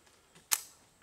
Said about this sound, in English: Pull the charging handle back.